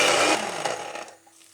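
A spice grinder whirs loudly as it pulverises cooled roasted spices into powder, then the motor winds down and goes quiet near the end.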